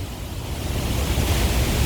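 Niludhan Falls in Dawis, Bayawan, Negros Oriental: a loud, dense, unbroken roar of rushing water close by, with no voices over it.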